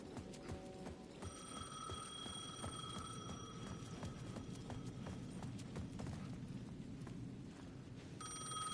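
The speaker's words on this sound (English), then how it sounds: "The payphone at the edge of the plaza was ringing again." A payphone at the edge of a plaza in the video game Alan Wake 2 rings in repeated electronic bursts over a steady, busy ambient bed, with no voices.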